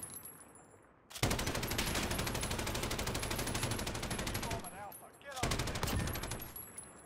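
Rapid automatic gunfire in Call of Duty Modern Warfare: two long, loud bursts of fast rhythmic shots, separated by a brief pause, with no talk over them.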